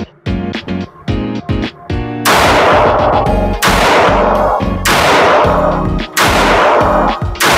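Loud gunfire: four heavy blasts spaced about a second and a half apart, each ringing out, after a few sharper cracks at the start.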